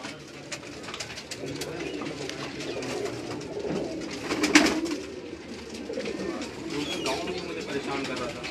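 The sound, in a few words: pigeons on a rooftop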